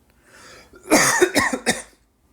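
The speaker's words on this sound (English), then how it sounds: "I apologize for the coughing." Several harsh coughs come in a quick burst, close and loud, after a breathy lead-in, then silence.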